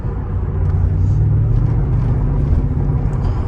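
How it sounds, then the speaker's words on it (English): A 2004 Mercedes SL55 AMG V8 running with its mufflers removed, giving a loud, steady deep rumble close by that holds without pause throughout. "the AMG motor screams, though, when you start removing a lot of stuff. It really sounds good with no mufflers"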